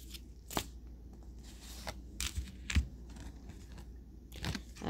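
Oracle cards are shuffled by hand, giving soft crisp riffling bursts at irregular intervals over low room hum.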